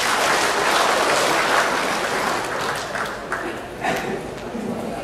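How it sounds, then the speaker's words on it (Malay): A crowd applauds steadily, loud and sustained, with a voice speaking over the clapping as it begins to fade. "Berikan tepuk tangan kepada"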